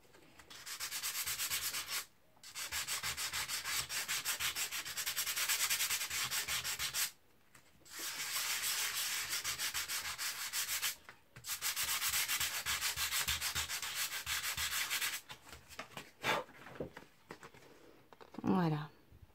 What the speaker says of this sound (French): j'ai poncé un petit peu plus fort, ça fait un peu plus blanc